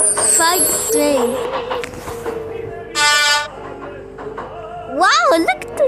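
A loud toy-like train horn toots in the video game Train CanCan, sounding in a few short blasts with playful synth tones between, while a person talks excitedly over it.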